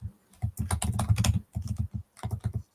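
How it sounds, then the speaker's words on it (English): Rapid, furious clatter of keys on a computer keyboard, dense bursts of keystrokes broken by short pauses, close and fairly quiet, with no one talking. "I hear some furious typing."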